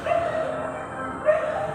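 Rescued dogs at an adoption event in a mall, a couple of short barks and yips standing out over a murmuring indoor background.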